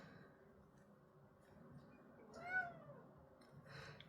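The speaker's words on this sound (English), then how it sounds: "Please excuse my cat in the background." A house cat meows once, faintly, in the background of a quiet indoor room during a crochet session, with a single short rising-and-falling call partway through.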